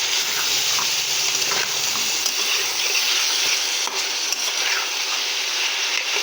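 A frying pan sizzling hard right after a small splash of water goes in, a loud, dense, continuous hiss heard up close with faint stirring clicks.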